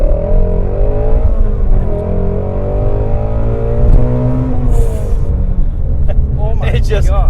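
A Camaro ZL1 1LE revs out on a race track, its engine note climbing and falling steadily and loud throughout, with people talking over it.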